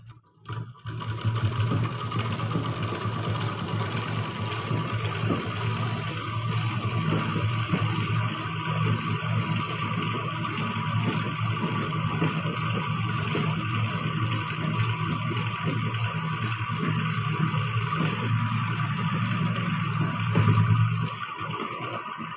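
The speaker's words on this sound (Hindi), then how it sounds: "अब इनके बीच में जिगजैग सिलाई डिजाइन बनाएंगे।" A sewing machine stitches a zigzag design on a salwar, running steadily and continuously at an even pace with a constant mechanical whir and low hum, close and alone.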